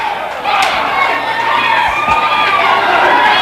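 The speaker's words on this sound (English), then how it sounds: "the crowd is going wild" A wrestling arena crowd roars and cheers wildly, a dense, loud, sustained mass of shouting voices that holds without letting up for the whole stretch.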